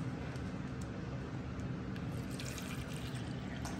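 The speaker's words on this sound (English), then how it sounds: "I'm gonna add me some water in here." Steady stream of water pours into a container, a continuous close splashing rush with faint dripping at the end.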